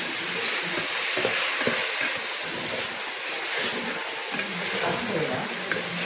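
Spices and mince stirred in a hot pan for mutton keema biryani, a steady broad sizzle of frying with scraping stir strokes, close and continuous throughout.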